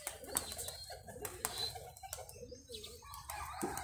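Roller pigeons coo in soft, repeated low calls, close by and fairly quiet, with a few light chirps and a brief flutter.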